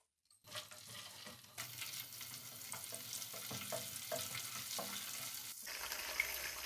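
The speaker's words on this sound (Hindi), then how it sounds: "हम इसमें जो ड्राई फ्रूट ऐड करेंगे हम हल्का सा रोस्ट कर लेंगे।" Chopped almonds, cashews and raisins lightly roasting in oil, a steady close sizzle with light stirring scrapes, starting after a brief silence and holding evenly throughout.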